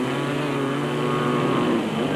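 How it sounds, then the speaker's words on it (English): Racing motorcycles, a Honda 330 and a Suzuki 250, on a track at a 1997 Super Series race: a continuous loud, buzzing engine drone with a steady high whine and no gaps. "Vickers van Geventer on his Jojo Tanks Honda 330 to close in on them"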